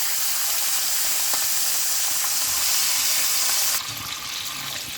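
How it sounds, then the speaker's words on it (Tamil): Anchovies and dried fish frying in hot oil, a loud continuous hiss and sizzle that drops noticeably in level near the end, with no voices. "நெத்திலி இந்த மாதிரி கிறிஸ்பியாக பொரிச்சிக்குங்க"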